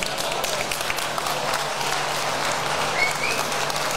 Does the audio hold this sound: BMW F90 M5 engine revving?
no